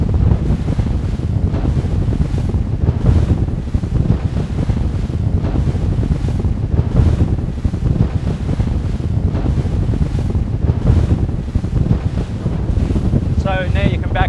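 A fishing boat runs at speed across light waves, up to about 35 mph, with heavy wind buffeting the microphone and a constant rushing roar of hull and water, briefly jumping clear of the surface.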